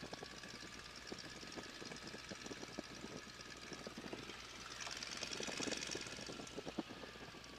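A Stearman biplane's radial engine rumbles at low power while taxiing on a runway, a faint uneven chugging with a slight rise in power midway and no talking.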